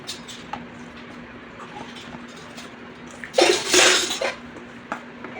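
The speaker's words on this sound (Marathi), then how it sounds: "पळीने मिक्स करून घ्यायचा आहे." A ladle stirs raw mango pulp with chopped jaggery in a pot, making a short burst of wet scraping and clinking around the middle against a quiet room, with a few faint knocks before and after.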